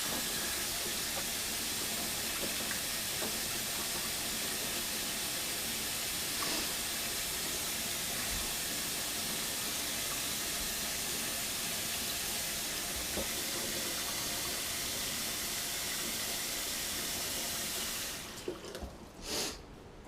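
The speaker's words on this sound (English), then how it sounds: "Cold water stops the eggs from continuing to boil or" Cold tap water runs steadily over boiled eggs in a kitchen sink for Scotch eggs, a loud continuous splashing hiss that cuts off near the end, leaving a few small knocks.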